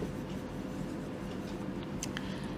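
Marker or chalk writing on a board during an accounting ledger lesson, steady close scratchy strokes over a dense room hum, with no talk.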